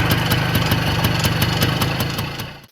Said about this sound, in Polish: ten poprawnie pracujący silnik był to W2A Wiatr, ta wersja czterobiegowa